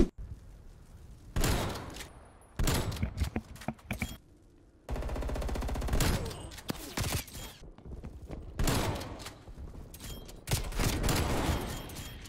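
Shotgun blasts from Black Ops Cold War gameplay come in a series of loud, sharp booms separated by short gaps, with mechanical handling sounds between shots.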